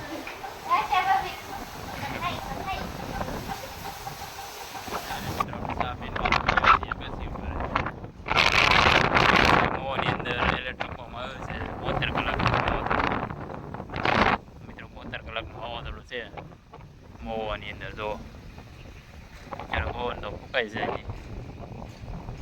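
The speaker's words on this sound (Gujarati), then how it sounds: "કેટલો પવન ઓછો થાય વાવાઝોડું દર વર્ષે અમારે એક તો આવે જ" Strong windstorm gusts in Mahuva, buffeting loudly in uneven surges and dropping back, with people talking throughout.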